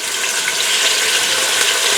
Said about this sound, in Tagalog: Gigisa natin to.